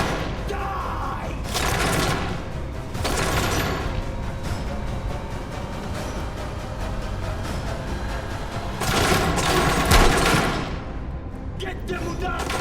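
Dense, continuous gunfire rattles through a Metro VR firefight, loud and sustained for the whole stretch with heavier bursts surging near the start and again toward the end.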